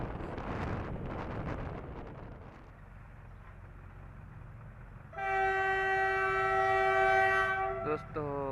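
A train horn blows loudly and steadily for nearly three seconds on a monsoon trip from Bhuj toward Lonavla and Goa, following a stretch of wind-buffeted rumble, then it cuts off abruptly.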